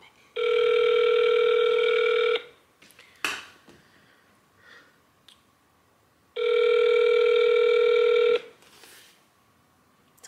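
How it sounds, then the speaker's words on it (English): Two long, loud electronic telephone rings, each about two seconds, with a gap between them and faint clatter in the background, heard while calling a restaurant on hold. "Please answer the phone."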